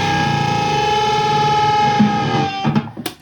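Distorted electric guitar holds a bent string against a slightly out-of-tune note, the two pitches beating and wavering for a couple of seconds before choppy, fading notes at the end.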